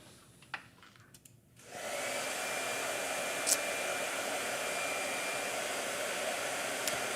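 A blow dryer switches on after a couple of seconds of quiet handling noises, then runs with a steady, loud whoosh to the end.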